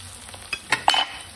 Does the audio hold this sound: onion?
yes